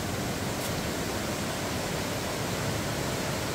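Cachoeira do Ribeirão waterfall pouring with strong flow, a dense, steady roar of rushing water that fills the whole clip without pause or variation.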